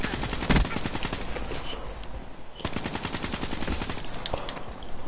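Rapid automatic gunfire from a PS4 shooter game, loud dense bursts of shots with a couple of heavier impacts, continuous throughout with faint talk underneath.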